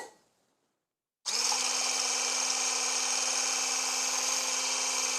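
Stick blender frothing fat-free milk at a higher speed: after a brief quiet pause, the motor kicks on with a steady, high-pitched whine that holds evenly and close by.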